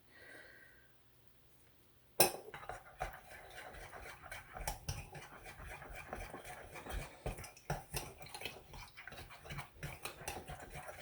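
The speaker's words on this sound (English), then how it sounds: "just dry off my spoon" A spoon being rubbed dry and handled while dyeing yarn in salmon and chartreuse colours: a quiet start, then from about two seconds on a steady run of close, dense rustling, wiping and light clinking.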